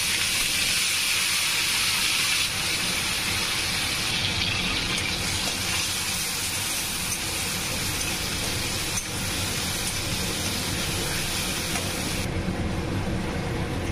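Chopped tomatoes hit hot fish-frying oil tempered with black cumin, giving a loud, close, steady hiss and sizzle that holds for the whole stretch, easing slightly near the end, with no talking.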